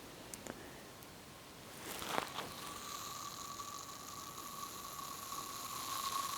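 Fizzing Imperial Stout with large, very active bubbles, a steady faint crackle and hiss of popping foam that grows slightly busier over several seconds, heard close and alone.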